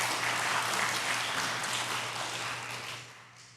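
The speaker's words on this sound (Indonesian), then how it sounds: "Boleh kita berikan aplaus buat perseroan." A crowd applauds at a stock exchange listing ceremony, a dense, steady wash of clapping that stays loud throughout and eases off slightly toward the end.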